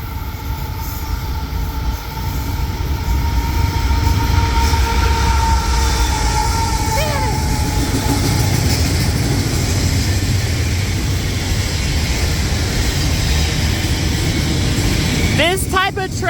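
A Union Pacific mixed train rolls past in a long, steady, loud rumble of wheels and cars with a continuous roar, squeals near the end, and a brief horn-like tone partway through.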